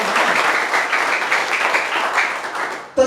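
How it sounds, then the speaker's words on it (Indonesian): A church congregation applauds during a sermon: dense, steady clapping from many hands fills about three seconds at even loudness, then cuts off abruptly with a short burst of other sound at the end. "Tepuk tangan"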